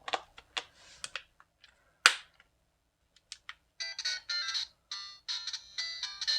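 Family Pocket 16-bit handheld game console playing video game audio through a replaced speaker: thin, tinny bleeps and short electronic tones in irregular bursts, fairly faint, with gaps between them.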